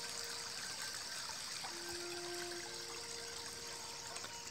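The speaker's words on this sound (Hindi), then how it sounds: "देखिए पानी का बहाव," Steady, continuous rush of water flowing under a bridge in a village stream, alone with no talk.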